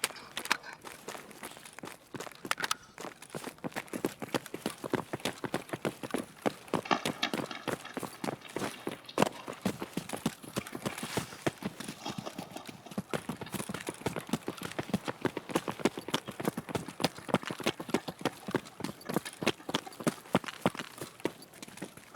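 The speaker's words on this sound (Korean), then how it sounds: "아, 아까 내가 발소리 들은 게 맞았네" Footsteps in the video game Escape from Tarkov, a dense run of rapid, evenly paced steps on a hard surface, continuous and fairly close for the whole stretch.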